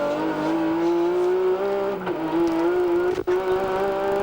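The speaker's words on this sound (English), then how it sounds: "You notice the gearbox straight cut gears in that car, and they make a lot of noise and crash and bang as you drive" Race car with a straight-cut gearbox at Bathurst, a loud, steady engine drone with a whining gear tone, heard from on board with brief dips at shifts.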